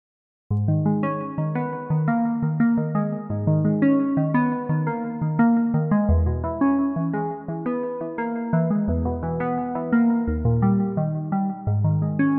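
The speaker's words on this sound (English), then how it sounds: "This sound is from the SQ80V plugin by Arturia" A synthesizer from Arturia's SQ80V plugin plays a bright, plucky trap-beat melody with bass notes underneath, in a steady repeating rhythm, alone and clear.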